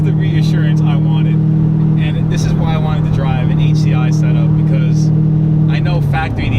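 A Corvette C6 Z06 with upgraded heads and cam, heard from inside the cabin, holds a loud, steady low engine drone while voices talk over it.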